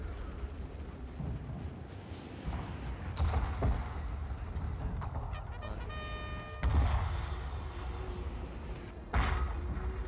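Distant artillery bombardment on a Total War: Shogun 2 battlefield, several muffled booms and thuds spaced a few seconds apart over a low rumbling battle ambience.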